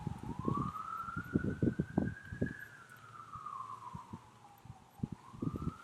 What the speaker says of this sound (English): I apologize, there's now sirens